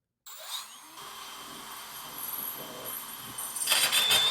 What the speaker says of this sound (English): position your drill bit in that divot and drill the hole